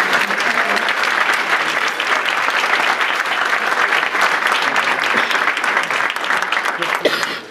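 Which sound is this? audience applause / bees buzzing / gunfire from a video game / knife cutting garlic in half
audience applause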